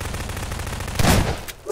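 Burst of gunfire in the Prop Hunt video game, a loud cluster of rapid shots lasting about a fifth of a second, followed by a sharp single crack, over a steady game background hum.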